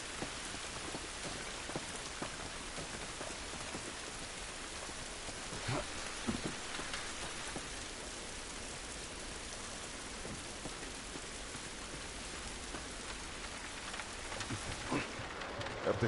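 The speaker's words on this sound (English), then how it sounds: "It's raining." Steady rain pouring in The Last of Us Remastered, a dense, continuous hiss of drops on surfaces with faint rumbling underneath, constant and uninterrupted with no voices.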